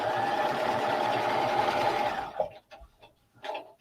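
A sewing machine stitches fabric for a vinyl applique bag, a steady close motor whir with a fast needle rhythm, then it stops and leaves a few soft handling clicks and rustles.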